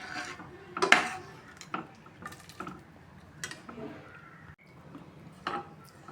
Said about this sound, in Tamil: சேர்த்து நல்லா கலந்து விட்டுக்கலாம்